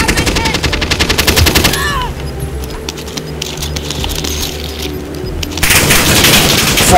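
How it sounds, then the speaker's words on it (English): Gunfire in Call of Duty Warzone: loud rapid machine-gun bursts at the start, a quieter stretch of scattered shots, then another heavy burst of automatic fire at the end. "Getting shot at, dude."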